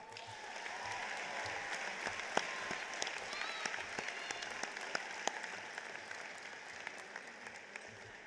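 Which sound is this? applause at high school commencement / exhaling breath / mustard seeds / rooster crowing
applause at high school commencement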